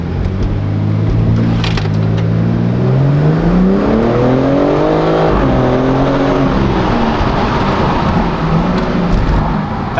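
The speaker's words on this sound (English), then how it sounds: "we're going to experience launch control for the first time" A BMW M4 Competition launches with launch control, its engine revving hard and climbing through rising pitch sweeps, then shifting and pulling away loudly and close throughout, with no talk.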